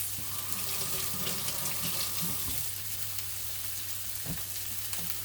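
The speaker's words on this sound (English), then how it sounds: "let me just wash my hands" Running tap water splashing steadily in a kitchen sink as hands are washed while cooking, with faint sizzling from pork chops in a cast iron pan in the background and a couple of soft clunks near the end.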